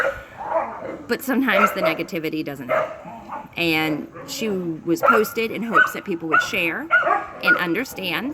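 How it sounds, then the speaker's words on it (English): Several dogs at a rescue bark, yip and whimper while playing after breakfast, lively and close, overlapping with a person talking throughout. "Sorry about the barking, it's playtime right after breakfast."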